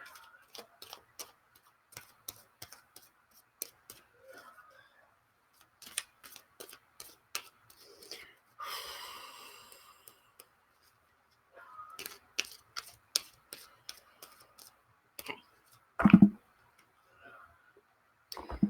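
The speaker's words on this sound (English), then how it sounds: "So I'm going to shuffle up the cards." Tarot cards are shuffled up close: scattered crisp clicks and snaps, a brief riffling burst midway, then a heavier thump near the end. Otherwise quiet.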